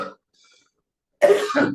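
After a brief silence, a single rough cough bursts out close by, harsh and short.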